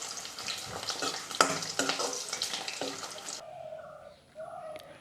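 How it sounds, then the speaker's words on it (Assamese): Onions fry in hot oil with bay leaf in a kadai, giving a dense close sizzle broken by stirring scrapes and clicks. The sizzle suddenly drops away near the end, leaving a quieter background. "এতিয়া পিঁয়াজ দি দিছোঁ পিঁয়াজখিনি ৰঙচুৱা হোৱালৈকে মই ভাজি ল'ম"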